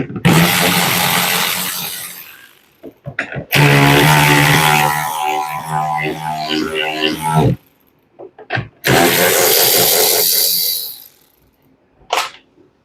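Power tool with a 10 mm socket undoing the four cover bolts on a Honda EU3000 generator, loud whirring bursts in several spurts with short pauses between them, no talking.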